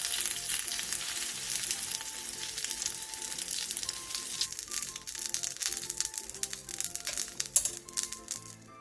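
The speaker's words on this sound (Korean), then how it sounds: "계란을 앞뒤로 노릇노릇하게 붙여주세요" Eggs fry on both sides in a pan, giving a steady crackling sizzle with scattered pops and the occasional scrape or clink of a utensil.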